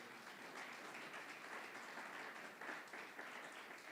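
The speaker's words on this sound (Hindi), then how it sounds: "जोर से ताली बजाएंगे" A church congregation at a Christian conference claps loudly and steadily, a dense, sustained wash of applause filling the whole clip with no speech over it.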